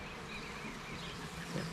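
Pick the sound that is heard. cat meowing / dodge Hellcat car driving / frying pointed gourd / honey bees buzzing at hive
honey bees buzzing at hive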